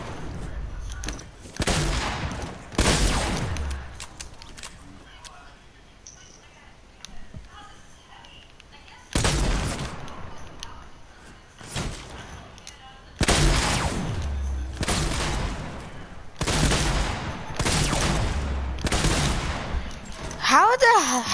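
Bursts of gunfire in the video game Fortnite, several loud volleys in quick succession separated by quieter gaps, with speech also present.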